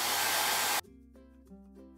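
Hair dryer blowing loud and close for under a second while drying a decorated rustic MDF key holder, then switching off abruptly into quiet.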